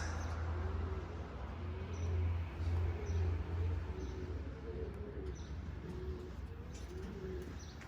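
Pigeons coo in a repeated series of soft, low calls outdoors on a hot summer day, steady and moderately close over a constant low rumbling background.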